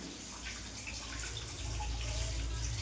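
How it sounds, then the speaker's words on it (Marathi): Water leaking into a rented house and running across the floor gives a steady, faint, even rushing hiss with no clear drips. "अख्ख्या घरात पाणी झालंय इथून पाणी वाहतं आहे"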